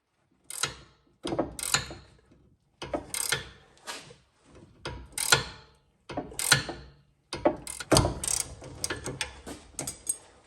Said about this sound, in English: we're gonna put a 17mm wrench on the nut